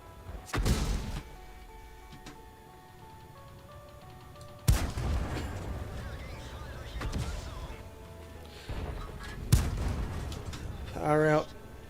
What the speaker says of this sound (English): Oh, I've got too many guns shooting at me.